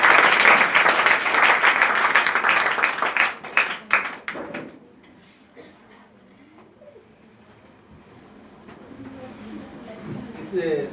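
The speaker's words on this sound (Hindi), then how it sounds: "ताली बजाकर इनका स्वागत कीजिए आप सभी।" An audience at an award ceremony honouring Bihar Board topper students claps loudly and steadily for several seconds, then the applause breaks off into a quieter room with scattered faint sounds.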